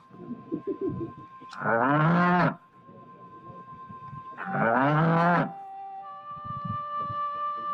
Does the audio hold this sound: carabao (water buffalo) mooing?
yes